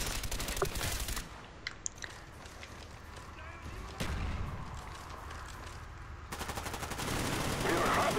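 Gunfire in Call of Duty Black Ops: rapid bursts of shots and sharp single cracks pile up throughout, loud and close, with people talking over the combat.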